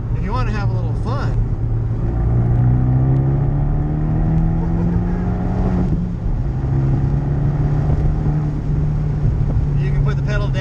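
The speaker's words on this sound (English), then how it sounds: "you can put the pedal down, and with a lot better flow from the front of the car to the back" A turbocharged Fiat 124 Spider fitted with a sport exhaust system accelerates under load, its close, loud engine drone rising steadily in pitch, easing briefly around a gear change, then pulling again.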